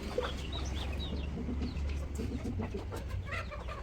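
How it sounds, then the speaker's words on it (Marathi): Domestic country chickens cluck and squabble close by in a scattered, overlapping flock, steady and moderately loud throughout with no talk. "ह्या कोंबड्यांची लई भांडणं आहेत"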